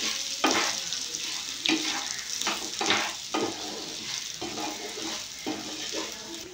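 Fried semolina being stirred in a pan for pulao, a spoon scraping in repeated strokes over a steady close sizzle, with no talking.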